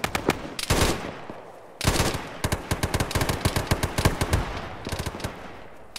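Rapid bursts of automatic gunfire from the video game Arma 3 crackle loudly and close, with dense rattling volleys separated by brief pauses.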